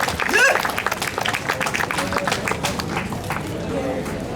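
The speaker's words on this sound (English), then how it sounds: "Applause, ladies and gentlemen." Audience applause and cheering greet a Maasai evening show at a Zanzibar beach resort, with clapping mixed into lively crowd noise and some voices throughout.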